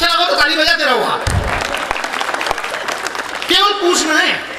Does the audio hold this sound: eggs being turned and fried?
no